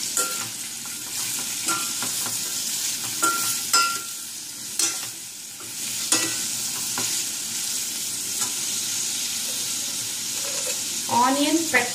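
Sliced onions sautéed in a pan for a potato stew, a steady close sizzle with frequent stirring scrapes, and no talking over it.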